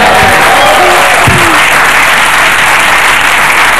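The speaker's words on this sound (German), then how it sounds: "Und Applaus, meine Damen und Herren." Loud, dense applause from a TV studio audience on a German talk show, sustained steadily throughout, with a few brief voices mixed in near the start.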